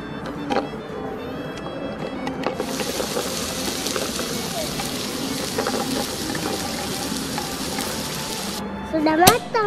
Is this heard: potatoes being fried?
yes